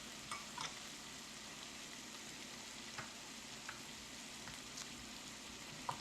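Mushrooms frying in a pan for a simple budget home meal, a steady low sizzle running throughout with a few faint clicks and stirs, quiet and continuous with no talking.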